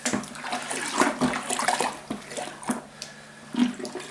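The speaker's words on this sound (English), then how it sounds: "Scrape the malt extract off the bottom and get it dissolved into the mixture" A big spoon stirring a malt extract mixture for kit beer, giving sloshing, swishing liquid sounds with soft knocks against the pot, close and moderate in level, with no talk.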